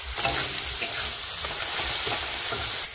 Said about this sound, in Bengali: কড়াইতে দিয়ে দিয়েছি পেঁয়াজ বাটা, হলুদ গুঁড়ো পরিমাণ মতো, লবণ পরিমাণ মতো।